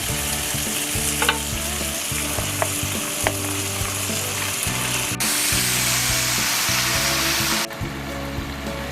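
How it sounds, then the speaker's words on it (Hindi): Pumpkin sizzles and fries loudly in a hot pan with spiced oil, with scraping stirs and occasional clinks of a utensil, continuous and close. "तो तड़का हमारा तैयार हो गया है तो अब इसमें ऐड करेंगे हम कद्दू।"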